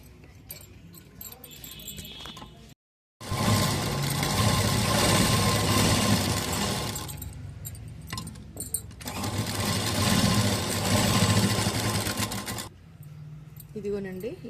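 An electric sewing machine stitches the V-neck of a school uniform in two long, fast, whirring runs, split by a brief silence and a pause. A person talks quietly in between.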